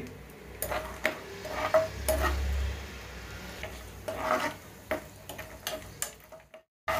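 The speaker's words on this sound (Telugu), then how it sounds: "నెయ్యి వేడెక్కిందండి కిస్మిస్ జీడిపప్పు వేసుకొని వేపుకోవాలి" Raisins and cashews fry in hot ghee in a kadai for carrot halwa. A soft sizzle sits under frequent clicks and taps of a spoon against the pan, close and irregular, ending in a brief silence. No one talks.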